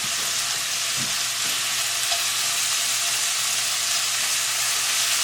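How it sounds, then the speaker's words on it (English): Vegetables for a chicken pot pie sauté in a hot pan, giving a steady, even hiss of frying with a faint low hum beneath and one or two soft utensil taps, no voices. "I'm just going to saute these for about, let's say about 7 to 10 minutes"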